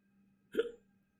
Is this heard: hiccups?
yes